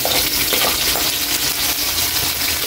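Ginger, garlic, tomato and onion sauté in a pan for sinigang with santol, giving a loud, steady, close sizzle and hiss throughout, without voices.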